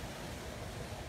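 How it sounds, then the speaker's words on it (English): A backyard pool waterfall at a mansion produces a steady, dense wash of falling water. The broad hiss stays continuous and fairly loud throughout with no other sounds. "waterfall"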